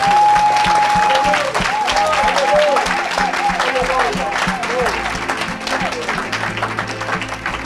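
A church congregation claps and cheers in acclaim of the Lord, a loud, sustained wash of applause and crowd noise, with a sung or spoken voice line rising over it near the start.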